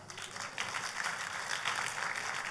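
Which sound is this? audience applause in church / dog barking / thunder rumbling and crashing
audience applause in church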